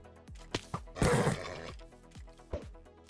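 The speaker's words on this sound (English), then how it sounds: "Here's a horse." A horse in the Minecraft modpack ATM11 neighs and whinnies in short, loud bursts, with one longer drawn-out whinny in the middle and a few quick snorting calls around it, heard alone without talk.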